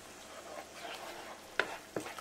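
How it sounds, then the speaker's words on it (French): Tomato coulis is poured in and stirred into potatoes frying for patatas bravas, giving a soft sizzle under a couple of brief scraping stirs, all close and quiet. "Maintenant, on va venir rajouter notre coulis de tomate. Et on va bien laisser épaissir."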